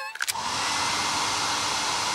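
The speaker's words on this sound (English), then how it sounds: "Good thing I packed my hairdryer." A cartoon hairdryer blows steadily after a brief rise at the start, a constant loud whooshing hum held alone to the end.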